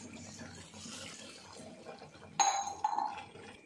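Water poured from a tumbler into a pan while making jaggery syrup, starting partway through as a close, bright splashing pour with a brief clink, after a quiet stretch.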